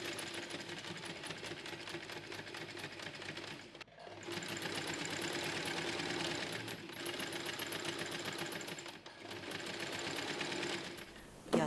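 A sewing machine runs in long continuous stretches while stitching the box corners of a Cora tote bag, its dense rattling hum broken by two short pauses.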